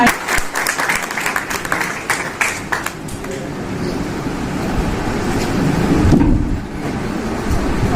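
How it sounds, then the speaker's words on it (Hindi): Audience applause at an Urdu Academy Jeddah award ceremony welcomes the chief guest, Abdul Qayyum Khan, with sharp, loud claps that fade after a few seconds into a rushing, wind-like roar. "आपकी तालियों की गूंज में इस्तकबाल कीजिए मेहमान खुसूसी इज्जत माब अब्दुल कयूम खान साहब"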